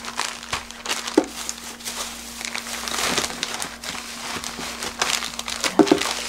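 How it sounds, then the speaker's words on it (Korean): Plastic zipper bag crinkling and rustling close by as portions of hulled red bean powder are packed, in irregular soft crackles over a steady low hum. "한 분씩 드실 만큼 이렇게 담아서 지퍼백에다가요 다시 이렇게 넣으셔야 됩니다"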